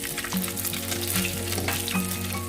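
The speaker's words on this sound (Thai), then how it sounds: "ทอดข้างในให้กรอบก่อนนะคะ" Pork pieces deep-fry in hot oil until crisp for northern Thai laab khua, a loud, dense bubbling sizzle running steadily throughout with faint spoon scrapes, no talking.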